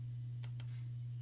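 A computer mouse clicks twice in quick succession to open a file in Photoshop, two faint, sharp ticks over a steady low electrical hum.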